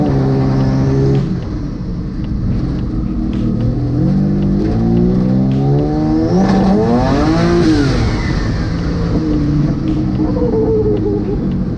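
A Suicide MX3 car fitted with a custom angle kit drives and turns hard, its engine rising and falling in pitch with rev changes, steady and close throughout with no talking.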